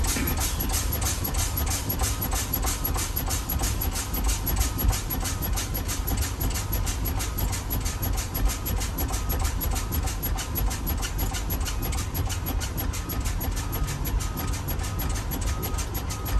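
Inside a truck cab during an air brake test, the brake pedal is pumped and released over and over. Air hisses and clicks in a fast, regular rhythm that holds steady for the whole stretch.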